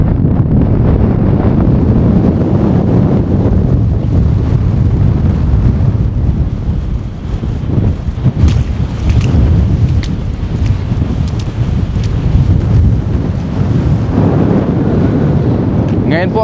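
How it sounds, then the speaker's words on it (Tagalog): Strong wind buffets the microphone in a continuous low roar for the whole stretch, with occasional gusts and faint rattling, no clear talking. "Sobrang lakas po ng hangin."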